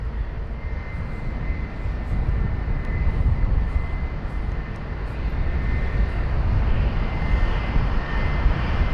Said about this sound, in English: Just holding is the Airbus aircraft,